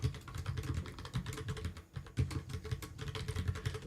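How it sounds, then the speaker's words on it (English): Fingers typing on a computer keyboard, a quiet rapid run of uneven clicks and key taps continuing throughout, close and alone with no speech. "there's the sound of me typing."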